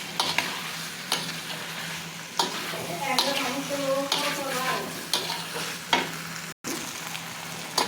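Potatoes and pointed gourd sizzle in a hot pan while being stirred, a steady close frying hiss broken by regular scraping strokes of the spatula, with a brief dropout near the end.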